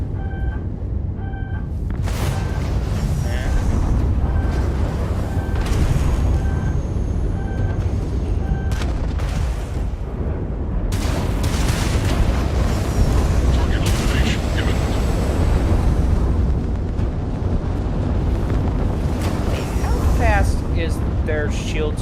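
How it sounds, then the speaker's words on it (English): Incoming missiles exploding in a Starfield space battle, a dense run of loud booms and blasts over continuous rumbling combat noise with beeping tones early on. "Missile coming in."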